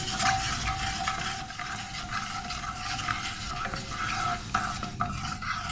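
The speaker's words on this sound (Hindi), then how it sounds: "अब हम इसमें डाल देते हैं 1 टीस्पून ज़ीरा और इसको थोड़ा सा फ्राई कर लेते हैं।" Cumin seeds fry in a pan for an aloo matar dish, giving a steady close sizzle with scattered light scraping and clinks of a spoon stirring, no voices.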